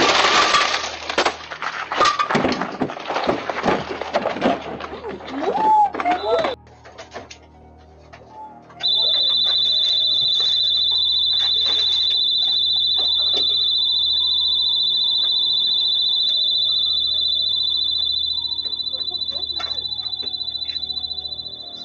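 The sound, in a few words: store burglar alarm going off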